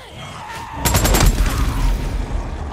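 A quick burst of gunfire from the Days Gone video game rings out as a zombie nest is blown up, a rapid cluster of shots followed by a rumbling low blast that fades out.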